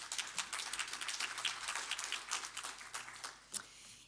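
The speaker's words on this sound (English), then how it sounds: "Give her an applause, please." Audience at a conference opening session gives a modest round of applause, a light patter of scattered hand claps that feels somewhat distant and fades toward the end.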